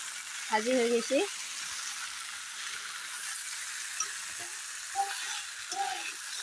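Jackfruit flower (musi) frying in a pan with spices, a steady sizzle that runs throughout beneath brief bits of a woman's speech.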